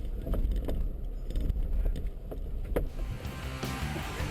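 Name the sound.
Suzuki Jimny off-road vehicle driving down a slope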